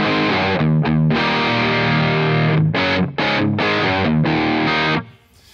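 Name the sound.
Mesa Boogie Triple Rectifier amp sim in AmpliTube 5, channel 3 modern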